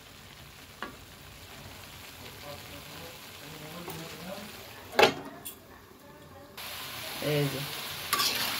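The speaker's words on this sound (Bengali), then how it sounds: "আলু কেটে দিয়েছি, ফুলকপিগুলো সুন্দর করে ভেজে নিচ্ছি, কিন্তু একটু বেশি করে তেল দিয়ে তৈরি করতে হয়" Cauliflower florets and cut potatoes frying in plenty of oil, a low continuous sizzle with occasional clinks and stirring, a brief spoken remark heard partway through.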